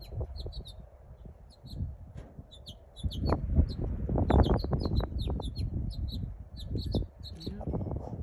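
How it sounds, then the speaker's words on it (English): Small birds chirp repeatedly in quick, high bursts at a backyard feeder stocked with peanut cake and jelly, over a rumbling outdoor background, while a person talks quietly underneath. "Got happy birds."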